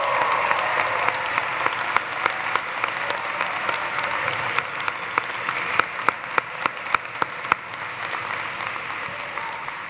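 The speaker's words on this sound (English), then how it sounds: "Another round of applause, please," Steady applause from a crowd at a Loyola University Chicago graduation ceremony for social work and public health graduates, a dense wash of clapping with sharp individual claps and a few whoops standing out near the microphone.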